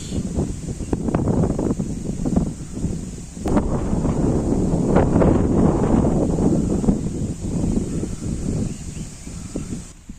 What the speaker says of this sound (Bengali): ওই যে কাঠ বাগানটা হাওয়ার কারণে আর কি পাতাগুলো একবারে দক্ষিণ দিকে গেতেছে অতিরিক্ত হাওয়া প্রচুর বাতাস অনেক বাতাস